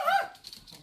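Several dogs bark indoors in a short burst, a loud yelp at the start followed by quieter, scattered yips and whimpers fading off.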